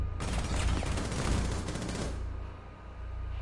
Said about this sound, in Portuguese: Oliveira, dei-lhe um tiro de shotgun